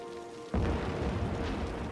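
Steady broadband rain falls in the Cities: Skylines city-building game, beginning abruptly partway through and continuing as a dense, even wash with a low rumble underneath.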